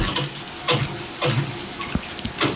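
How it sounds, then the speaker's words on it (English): Water runs from the tap into a shower and bath, a steady splashing stream broken by a few louder gushes and clunks, close and with no talk. "you can hear the water pressure is nice"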